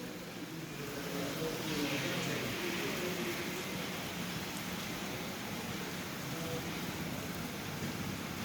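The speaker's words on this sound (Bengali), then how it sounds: "সুন্দর বৃষ্টির আওয়াজ।" Rain falls steadily in Sajek Valley as an even, close wash of hiss that swells slightly and then holds with no talking.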